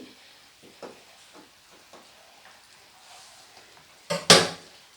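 Khichdi with ghee is stirred in a pot, with soft intermittent scraping and light clinks of a spoon, then a louder clatter of metal near the end, quiet and close with no talking.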